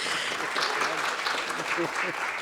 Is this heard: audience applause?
yes